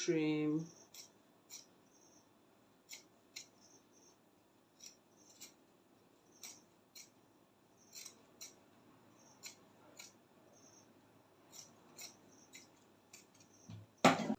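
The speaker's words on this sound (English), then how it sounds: "So I'm going to trim it out on the edges right now." Scissors snip along the edges of a corset being bust-caged, a string of soft, crisp cuts spaced irregularly over near silence, with brief voice sounds at the start and end.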